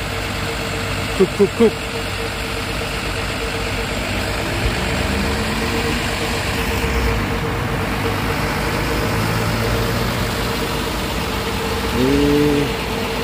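An EKA intercity bus sits idling at Mendolo terminal, a steady, fairly loud diesel drone under faint background voices and a few short horn-like toots.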